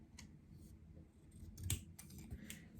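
Scissors cutting green paper give a few close, quiet snips and crisp slicing rustles at a steady hand pace, with no voice over them.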